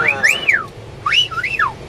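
Someone whistles a short, swooping melody of a few sliding notes, close and clear with no talking.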